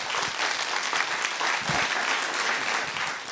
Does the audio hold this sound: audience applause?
yes